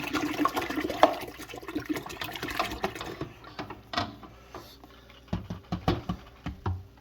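Apple juice pours and splashes from a bottle into a cider-brewing vessel, a wet gurgling stream up close that fades into scattered drips and clunks of handling near the end.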